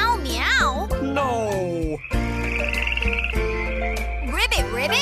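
Frog croaks in a playful children's farm song: a few bouncy ribbit-like calls at the start and end, layered over continuous upbeat music with a childlike voice.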